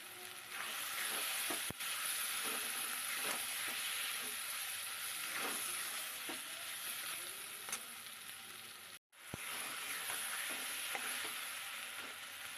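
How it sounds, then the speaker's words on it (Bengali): Spice masala with chilli powder and green chillies sizzling and frying in a pan with potatoes for a chital fish curry, a steady close hiss with occasional stirring scrapes and one brief break. "এবার মশলাটা প্রায় আমার কষানো হয়ে এসছে।"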